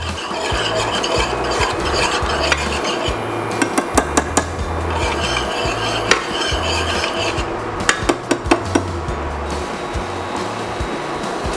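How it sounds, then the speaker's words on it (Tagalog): Orange chicken sauce thickened with a slurry is stirred in a pan, a steady scraping swirl with sharp clinks of utensil against cookware scattered throughout, close and fairly loud, with no talking. "Haluin lang natin hanggang sa lumapot."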